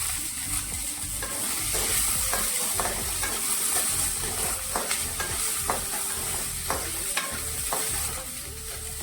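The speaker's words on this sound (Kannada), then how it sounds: "ಸ್ವಲ್ಪ ಎಣ್ಣೆ ಹಾಕಿ ಹುರಿರಿ" Tomato chutney ingredients fry in a little oil, a loud continuous sizzle with frequent light stirring taps and scrapes scattered through it.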